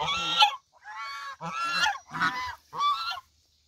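Geese on a goose farm honk loudly and close by in five distinct bursts, the cries separated by brief silences, with no talking.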